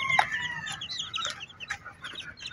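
Newly hatched chicks give high, thin peeps in quick irregular bursts, close and fairly clear over a low background hiss, with a few louder cheeps among them.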